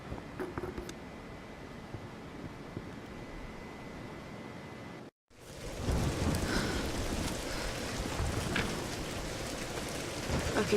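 Storm rain in the video game Tomb Raider Definitive Edition, a continuous wash of falling rain that briefly cuts out mid-way, then returns louder and fuller, with faint rumbles beneath.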